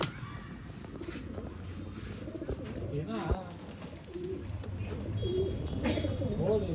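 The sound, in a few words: pigeons cooing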